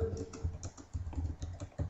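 Keys clatter on a computer keyboard as an email message is typed, a quick uneven run of close, crisp clicks with short pauses and no voices.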